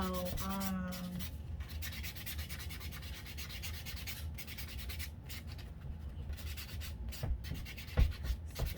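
An acrylic nail fill is buffed with a steady, close rubbing and sanding sound that continues without a break, with a few faint clicks near the end.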